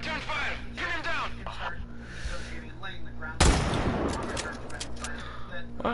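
Gunfire in Sniper Ghost Warrior 3, a sudden loud burst of shots partway through that crackles on amid battle noise, with voices talking over a steady hum before it.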